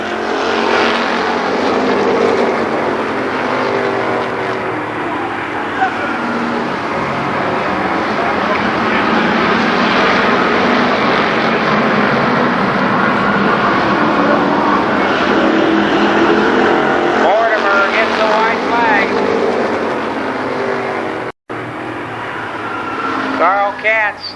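Legends race cars in a three-car battle for the lead at Columbus Motor Speedway, a dense, sustained roar of several engines held at full throttle around the oval, loud and continuous with a brief dropout near the end.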